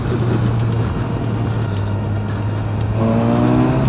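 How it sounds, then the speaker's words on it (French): A Kawasaki Versys motorcycle engine hums steadily, then the pitch climbs sharply near the end as it accelerates, loud and close. "quand tu ouvres la poignée, elle part direct la moto"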